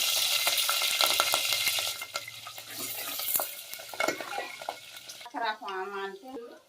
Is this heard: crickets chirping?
no